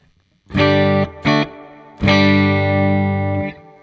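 Electric guitar run through a Sonicake Pocket Master multi-effects unit, played untuned with a distorted, effected tone: a short strummed chord, a brief stab, then a long sustained chord ringing out and fading, loud and close.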